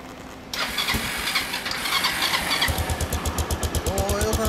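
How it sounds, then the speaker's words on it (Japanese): A 2003 Kawasaki Estrella RS 250 café racer motorcycle engine cranks and fires up, then settles into a steady, throbbing idle with a rhythmic low pulse; faint voices linger in the background. "オッケー、ごめん、エンジン音聞かせてもらえる？"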